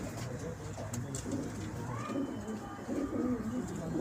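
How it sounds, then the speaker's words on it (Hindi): Soft, repeated cooing from Kala Shirazi pigeons kept in a loft in Delhi, heard close but low in level over a faint background murmur. "अभी कुछ ही देर में खुलेंगे ये कबूतर"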